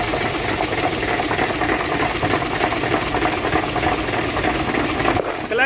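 A truck engine idles steadily with a dense, continuous mechanical rumble and clatter, a noisy clutch adding to the din, close and loud throughout with no talking.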